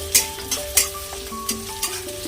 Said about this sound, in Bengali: একটা পেঁয়াজ আর দুটো কাঁচা লঙ্কা, ভেজে নেব।